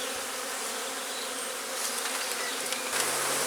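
Honey bees hum as a dense, continuous, close buzz while a hive is opened for inspection, with no voices.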